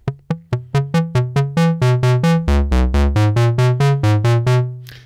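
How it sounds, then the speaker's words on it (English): A sequence of plucked, woody notes from a Buchla Easel synthesizer's dual low pass gate, with quick decays, speeding into a rapid pulsing run before settling and fading; clear and close, no voices. "So that is the core of this particular sound in the dual low pass gate."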